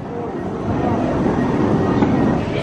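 Close, loud rumble and rattle of a train rolling past, a steady dense roar with rhythmic clatter throughout and no clear talk.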